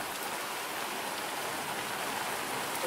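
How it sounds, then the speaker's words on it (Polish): Steady rain pours down during a thunderstorm near Częstochowa, a continuous dense hiss of drops filling the whole scene at even loudness with no voices. "I cały czas pada."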